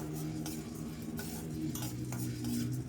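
Dals frying and being stirred in a pan, a steady sizzling hiss with scraping and clinking of a utensil against the pan, close and continuous.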